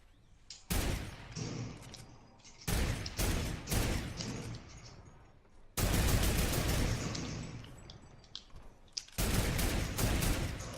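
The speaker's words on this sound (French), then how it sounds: "On se fait tirer dessus en plus, je crois." Bursts of rapid gunfire in a video game, several loud clusters of sharp shots separated by brief pauses and fading echoes, some heavy and close, with players talking faintly between volleys.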